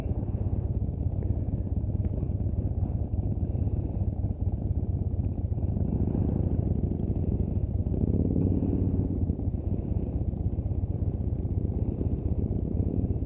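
A motorcycle practicing slow U-turns in a parking lot, its engine a steady low drone close by, swelling slightly mid-way as the rider works the throttle through the turn.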